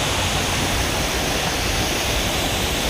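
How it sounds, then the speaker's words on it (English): Waterfall at Ricketts Glen State Park rushing in a steady, loud, unbroken roar from close by, heard alone with no voices. "So we're crossing underneath one of the waterfalls now."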